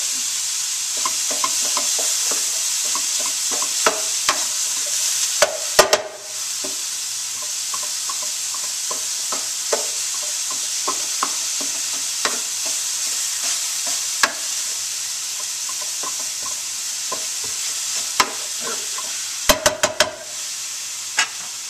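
Meat browning in a pan for a healthy Mexican dish: a steady, close sizzle runs throughout, broken by intermittent scraping and knocking from stirring with a utensil.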